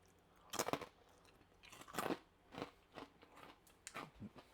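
Crunchy air fryer fries being chewed close up, several irregular crisp bites and crunches, quiet and intimate with no talk.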